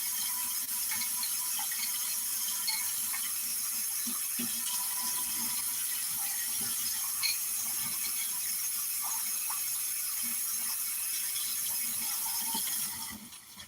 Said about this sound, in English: Wash your rice until your water comes out clean.